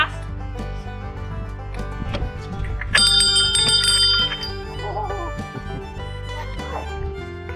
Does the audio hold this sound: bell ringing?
yes